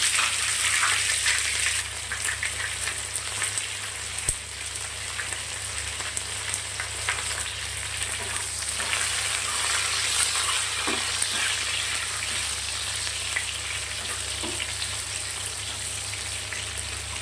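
Chopped ginger, garlic, green chili and cubed onion fry in oil for chili chicken, giving a steady loud sizzle that runs throughout with a few faint stirring clinks and no talking.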